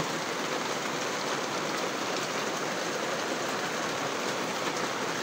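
Steady rain falling, a dense even hiss of drops on surfaces, continuous and fairly soft, with no one speaking.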